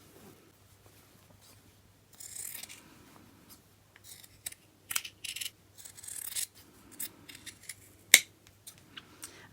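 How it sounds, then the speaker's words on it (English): Scissors snip along a fabric seam allowance, trimming about 3 to 4 millimetres away; a series of short, close crisp cuts comes in bursts, with one sharper snap near the end and no talking. "so I'm going to trim some of the seam allowance away. So I'm cutting off maybe about 3 or 4 millimetres"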